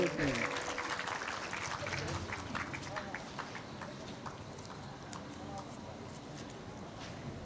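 An audience at a Bhagavat Katha religious gathering claps steadily for an honoree. The applause is dense and continuous, strongest at the start and then settling into a softer, even patter, with some voices in the room.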